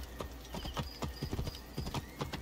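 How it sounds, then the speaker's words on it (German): Summoned horse trotting in the video game Assassin's Creed Origins, a brisk run of hoof clip-clops, close and steady over game ambience, no speech. "Seit wann kann ich in Sperrgebieten das Pferd rufen?"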